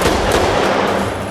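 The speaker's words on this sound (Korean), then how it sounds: "총소리가 울려 퍼지는데" A dense, rapid burst of gunfire fills the moment, loud and continuous, shots fired in a scene from the film Miss Sloane, with no voices.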